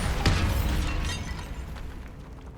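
A Bombarda blasting spell goes off in Hogwarts Legacy, one sharp, loud burst near the start followed by a dense, rumbling blast tail that slowly fades over a couple of seconds.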